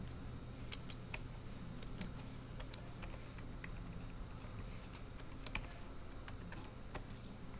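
Keys clatter on a computer keyboard during SketchUp modeling, quick irregular taps and clicks sounding faint and close against a quiet room.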